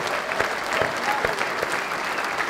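Crowd applause at a land investment expo auction right after a lot is sold, a steady patter of many hands clapping with a few sharper, closer claps standing out.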